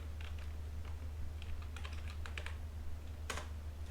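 Keys clatter on a computer keyboard in quick, irregular bursts while code is typed, close by over a steady low hum.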